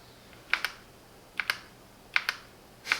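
Keystrokes on a Keychron Q6 Max wireless custom mechanical keyboard, tapped in short paired clicks at a steady, unhurried pace, close and crisp against a quiet room.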